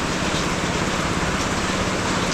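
Steady, heavy rain hisses continuously and evenly, close and loud, with no pauses or other sounds standing out.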